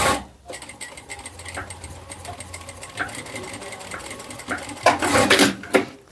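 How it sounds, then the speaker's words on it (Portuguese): A sewing machine runs a straight stitch over an overlock seam on bikini fabric, its rapid mechanical needle chatter close and steady, with short pauses and a louder burst near the end. "E aí a gente vai passar uma costurinha reta aqui sobre a linha da overlock."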